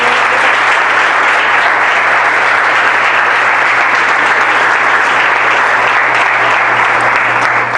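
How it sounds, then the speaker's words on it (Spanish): A church congregation applauds loudly and steadily throughout, a dense continuous wash of many hands clapping together with a low hum underneath and no pauses. "¿Alguien puede aplaudir su nombre?"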